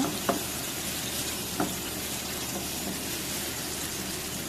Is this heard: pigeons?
no